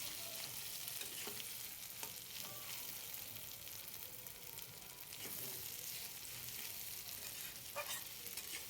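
Taro leaves cook in a pan over low heat, giving a faint, steady frying hiss with occasional light stirring scrapes.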